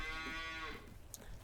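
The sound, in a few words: cows mooing in Farming Simulator 19 video game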